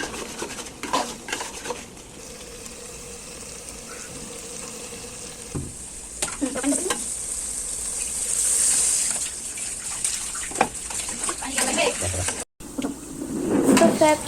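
Beef lung being stirred and sautéed in a pan, with a spoon scraping and clinking against the metal over a low sizzle, in irregular bursts with pauses and some background voices.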